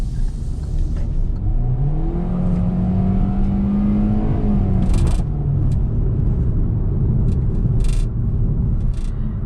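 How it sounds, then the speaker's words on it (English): A 2022 Hyundai Venue accelerates on a test drive, heard from inside the cabin as a rising engine note that climbs and then settles over a loud, steady road rumble. "And I love the way how it accelerates. It just keeps pushing me back to the seat."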